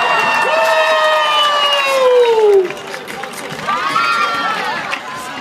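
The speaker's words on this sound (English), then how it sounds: "let's get a clap going" A lively crowd cheers, whoops and shouts at a pho eating challenge at a Little Saigon celebration. The noise is loud and busy, with a drawn-out shout that falls away midway before the cheering picks up again.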